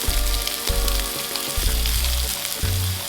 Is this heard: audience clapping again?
no